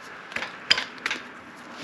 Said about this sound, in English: we're going to tap it with a hammer a little bit